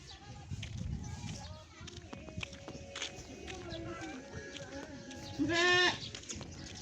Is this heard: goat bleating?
yes